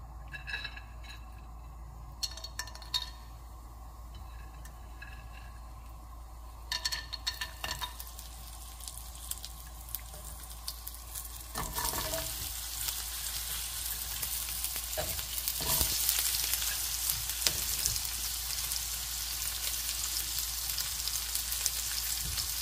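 Whole spices sizzle in ghee with a little sunflower oil for paneer biryani, a steady hiss that swells louder midway, with occasional clinks of a ladle against the pan and no one talking.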